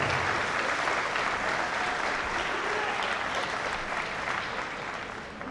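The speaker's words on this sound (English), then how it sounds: "Let's have a round of applause for our guests here today." Dense, sustained applause from a crowd at a boxing exhibition, loud and continuous throughout, easing slightly toward the end.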